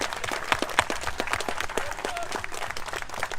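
Applause from a crowd at an outdoor memorial tribute gathering in Brussels, a dense, steady patter of many hands clapping close by, continuing without pause.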